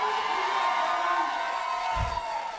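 A rowdy film festival audience cheering and whooping at a 25th-anniversary Q&A for "I Like It Like That" in New York, a loud, continuous wash of shouts and high whoops with a brief low thump near the end.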